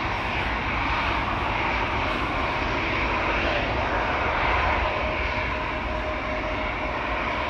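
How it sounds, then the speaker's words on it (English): An Emirates Boeing 777 departing Amsterdam Schiphol for Dubai, a loud, sustained broadband jet engine roar close by, holding steady throughout with no voices. "Another 777 is coming."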